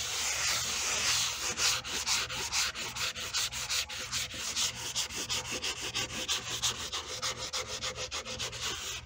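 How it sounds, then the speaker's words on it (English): Plywood surface being hand sanded with steady back-and-forth rubbing strokes, a close rasping scrape repeating in a quick even rhythm throughout, with no voices. "sanding the surface."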